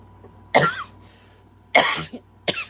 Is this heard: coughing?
yes